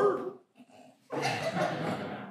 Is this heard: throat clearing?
no